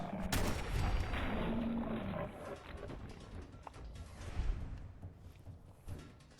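Game gunfire from Fallout 4 during VATS targeting, sharp bursts of shots near the start over a dense layer of combat noise and creature roars, with a few more scattered impacts later.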